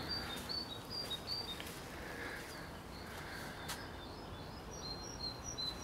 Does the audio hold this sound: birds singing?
yes